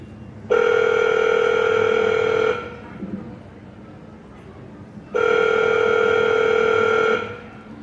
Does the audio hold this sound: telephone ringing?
yes